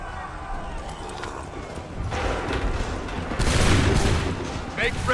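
Musket volleys from a line of soldiers in Assassin's Creed 3, heard as broad, rolling bursts of gunfire swelling over a busy battlefield din, with shouted voices mixed in.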